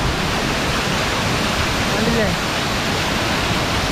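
A waterfall encountered on an off-road ride, a steady broadband rush of falling water filling the whole clip, loud and continuous, with a voice briefly speaking over it.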